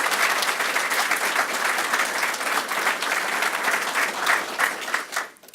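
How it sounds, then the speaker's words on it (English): Sustained applause from the audience at a police department promotion ceremony in Stockton, honoring a promotion to Deputy Chief; dense, steady clapping that holds loud throughout, then thins and fades in the last second. "Let's give him a round of applause, please."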